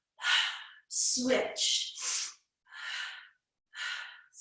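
A person breathes in short, sharp bursts during a mat ab exercise, with quick exhales and gasps in a repeating rhythm, close and fairly quiet, and a voice speaks briefly between the breaths.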